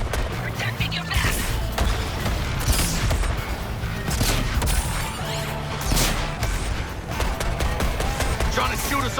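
Dense, continuous gunfire and explosions in the video game Suicide Squad Kill the Justice League, rapid overlapping shots and booms throughout, loud and close, with voices talking over the combat.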